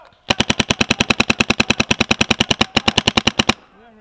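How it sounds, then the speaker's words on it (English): Automatic weapon fire in a Black Ops shooter game: a loud, close burst of rapid evenly spaced shots lasting about three seconds, with a brief pause, then stopping abruptly. "He's shooting at this guy."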